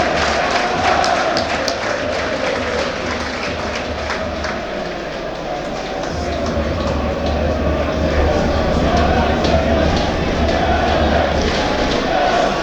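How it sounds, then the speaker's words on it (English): York City football supporters at a National League North promotion final crowd noise, a steady dense roar of cheering and applause from a large stadium crowd, continuous and loud throughout. "And as you can hear, the York City fans have been responding."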